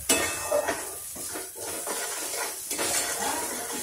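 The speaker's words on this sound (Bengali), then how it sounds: "আর একটু সামান্য জল দিয়ে দেবো দিয়ে আবার একটু কষবো" Spice paste stir-fried in a pan for a Bengali prawn dish, with scraping spoon strokes and clinks over a soft continuous sizzle, heard up close.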